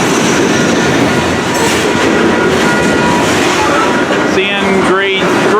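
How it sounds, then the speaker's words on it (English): A CN grain freight train rolls past in New Westminster with a loud, continuous rumble and clatter of wagons, then squealing wheels rise near the end. "CN grain train."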